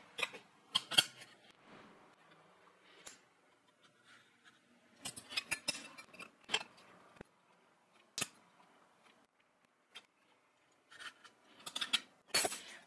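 Scissors trimming material along marked lines, quiet close snips and scrapes coming in short irregular bursts separated by near silence.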